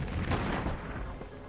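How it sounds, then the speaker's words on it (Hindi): Cartoon gunfire as soldiers shoot at a robot wolf, a dense, loud burst of rapid shots and booming blasts filling the moment, with no talking. "आर्मी वाले रोबोट भेड़िए पर गोलियां बरसाने लगते हैं"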